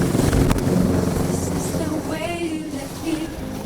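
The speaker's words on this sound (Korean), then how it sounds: "닥터 헬기의 소리가 시끄럽고 불편한 소리가 아니라 사람을 살리는 소리라고 생각해 보시면" A doctor helicopter, an air ambulance, flies overhead with a loud, continuous rotor drone and rumbling engine noise that slowly eases off.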